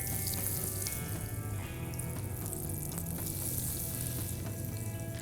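Large jalapeno poppers fry in hot oil, a steady, dense sizzle and crackle that carries on loudly without a break.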